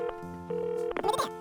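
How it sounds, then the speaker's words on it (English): Toy glitter phone playing a sustained electronic tone followed by a short burst of chirpy beeps, close and fairly loud. "Faye, can I borrow the glitter phone, please?"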